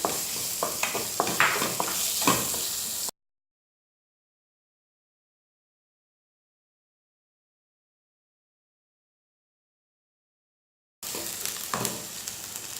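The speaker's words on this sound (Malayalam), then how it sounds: "നമ്മുടെ സവാള ചേർത്ത് നന്നായിട്ട് വഴറ്റുക." Onions sizzle as they sauté with a pinch of asafoetida in a hot pan, in two bursts of steady frying separated by a long stretch of silence.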